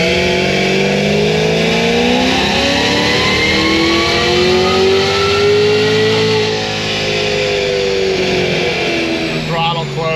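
Cadillac CTS-V3 engine revving hard on a dyno, a loud sustained rising wail that climbs steadily in pitch, then eases off near the end with some crackle as the throttle closes.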